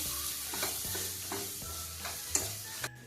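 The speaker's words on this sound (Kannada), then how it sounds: "ಇದನ್ನೆಲ್ಲ ಮೆತ್ತಗಾಗುವವರೆಗೂ ಚೆನ್ನಾಗಿ ಇದನ್ನ ಫ್ರೈ ಮಾಡ್ಕೋಬೇಕು." Tomatoes with salt and turmeric sizzle steadily in a pan for masala pongal, a close, continuous frying hiss broken by the soft scrapes of a spoon stirring, with a sharper clatter near the end and no talking.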